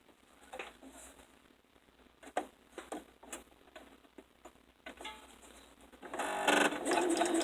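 A sewing machine runs a regular stitch set at 3.0 along a zipper with interfacing in the seam allowance, ticking in short bursts before settling into a louder, steady whir near the end.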